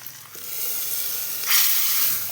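A hot tempering is poured into a pot of chana dal erissery, setting off a sudden loud sizzling hiss midway. The hiss runs on strongly over a quieter steady background. No one speaks.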